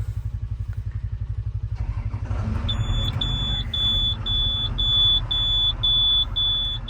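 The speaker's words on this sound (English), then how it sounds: "I think the battery's getting weak on this thing. That's why it beeps like that." Heavy dirt-moving equipment with a weak battery gives off a steady series of sharp, high warning beeps at a regular pulse over a diesel engine's chugging idle, which starts out rhythmic and then smooths into a running drone.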